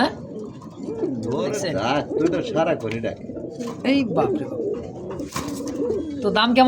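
A male white Shirting pigeon coos repeatedly in close, rolling calls, while someone talks over and between the cooing.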